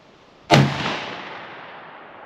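A single sharp gunshot from a 1946 M44 7.62x54R rifle, loud and close, followed by a long fading outdoor echo.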